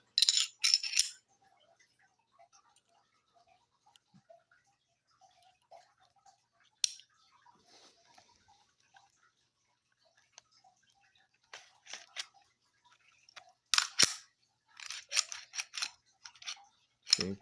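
A Smith & Wesson SD40 VE pistol being reassembled after cleaning, with scattered sharp metallic clicks and slides of parts fitting together, clustered in short bursts between stretches of near silence.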